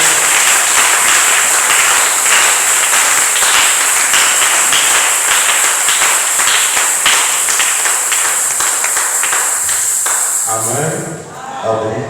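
A congregation at a French-language church service applauds and cheers the name of Jesus, loud sustained clapping filling the space for about eleven seconds before it cuts off abruptly into quieter sound.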